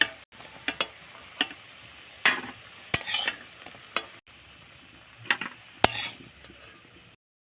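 Egg fritters fry in oil under a low, close sizzle, with irregular sharp clinks and scrapes as they are turned and lifted, ending in a short silence.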